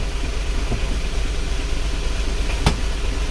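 Isuzu Panther diesel engine with a replacement transmission idling steadily with the clutch pressed, a low, even rumble close by, with a couple of brief clicks over it.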